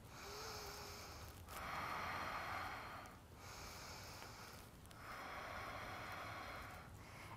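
Slow, deep yoga breaths drawn in and pushed out through the nose, several long, steady rounds of inhalation and exhalation heard close up and alone.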